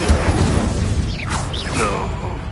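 An Incendio fire spell cast in Hogwarts Legacy: a loud, continuous roaring whoosh with swirling, rising magical swishes and mechanical rumble, filling the whole moment with no clear speech.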